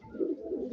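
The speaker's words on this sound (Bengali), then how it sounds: "এ হচ্ছে আমাদের কবুতরে" A racing pigeon gives a short, low, throaty coo close by, one brief murmuring call.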